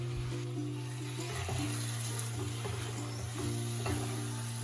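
Potatoes and pointed gourd are stirred through a sizzling pan for Bengali potol chingri, a steady close frying hiss with soft scraping stir sounds and no talking.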